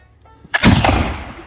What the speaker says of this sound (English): this is a fouling shot